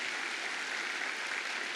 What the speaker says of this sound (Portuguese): Você poderia bater a melhor salva de palmas para esse Jesus que faz isso na nossa vida?